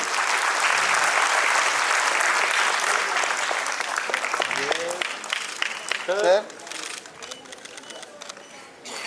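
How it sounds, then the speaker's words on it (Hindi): Sustained applause fills a hall at a felicitation ceremony for neo-literates in Chandigarh, dense and steady at first, then thinning into scattered claps while a voice speaks near the end. "तालियों की गड़गड़ाहट से गूंज जाना चाहिए हॉल"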